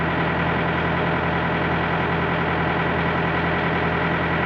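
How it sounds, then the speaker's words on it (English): A Thermo King refrigeration unit's engine runs steadily, a loud, constant mechanical drone with an even low hum and no variation, alone with no talk. "so we know the engine's running"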